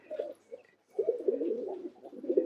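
Pigeons kept by a breeder in Old Dhaka coo in low, throaty bursts, one short phrase followed by a longer rolling run of coos, close and clear with no talk.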